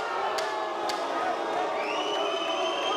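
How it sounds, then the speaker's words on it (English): A standing crowd at a boxing match cheers and roars steadily in a dense wash of voices, with a few sharp claps or shouts and rising whoops near the end. "And the crowd is really up here today. They are all standing up. It is even louder than it was for the Hedgehog fight."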